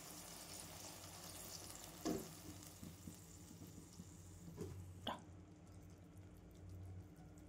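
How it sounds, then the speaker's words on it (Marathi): Chopped tomatoes with chili powder, turmeric and coriander roasting in a pan over leftover chapati pieces, a soft steady sizzle with a few stirring clinks and scrapes, fairly quiet. "छान भाजून घेऊ टमाटरला"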